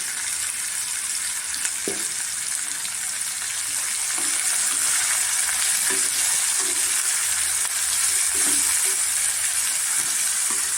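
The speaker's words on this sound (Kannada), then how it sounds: "ಒಂದು ಐದು ನಿಮಿಷ ಚೆನ್ನಾಗಿ ಫ್ರೈ ಮಾಡೋಣ ಇದು ಒಗ್ಗರಣೆಗೆ ಬೆಂದಷ್ಟು ಕಹಿ ಹೋಗುತ್ತೆ" Bitter gourd fries in oil for a tempering, giving a steady, loud sizzling hiss with a few light clinks from stirring scattered throughout.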